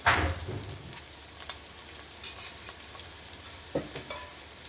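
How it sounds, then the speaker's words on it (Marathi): Paratha frying in ghee on a pan, a steady close sizzle with a few brief scraping or turning sounds over it. "आता मी दोघं साईड व्यवस्थित गोल्डन फ्राय करून घेते"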